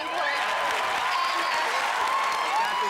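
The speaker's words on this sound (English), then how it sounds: "That deserves applause." Studio audience on a game show applauding a Marine Corps staff sergeant contestant, a steady dense wash of many hands clapping with faint cheering, continuous and fairly loud throughout.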